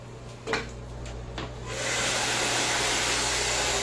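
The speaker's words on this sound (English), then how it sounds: "So let's start blow drying." A handheld hair dryer switches on and blows steadily on a freshly cut bob, a loud broadband whoosh held for a couple of seconds after a few soft clicks and handling noises.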